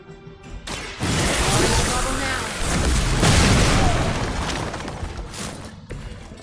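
Detonate ability explosions in Midnight Suns, with a deep, loud boom at about one second and a second heavy blast near three seconds, each rumbling and fading over game music.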